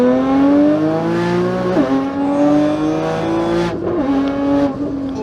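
A 1400 wheel-horsepower Nissan GT-R accelerates hard, its loud engine note rising steadily with two brief dips at gear changes and then climbing again, heard close and with no talking.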